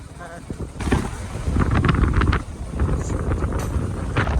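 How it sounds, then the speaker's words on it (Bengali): Strong wind gusting across an open field beside a village fishing pond, roaring steadily into the microphone with rising and falling buffets throughout, a voice talking over it. "আবার ফাঁকা জায়গায় চলে এসছে, আবার মানে বিশাল হাওয়া"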